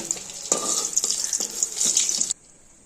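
Brinjal frying in oil in a wok, a dense close sizzle broken by several clanks and scrapes of a utensil, ending abruptly into near silence.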